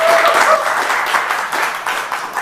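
Hands clapping on a football analysis talk show, a dense, steady patter of claps that is loud and close and continues throughout.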